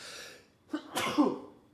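A single close sneeze from someone with allergies: a quick breathy inhale, then a sharp burst that trails off, with no talking.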